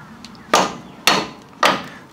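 A claw hammer strikes a bolt, knocking it out of a vehicle's spring hanger. Three sharp, loud metallic blows land about half a second apart, each ringing briefly before fading.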